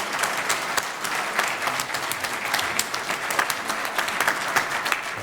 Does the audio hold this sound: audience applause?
yes